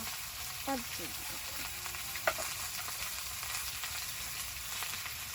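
Bottle gourd with bay leaf, whole cumin, dried chilli and turmeric frying in oil, a soft continuous sizzle with a brief utensil clink, faint and steady, and a brief voice murmuring over it early on.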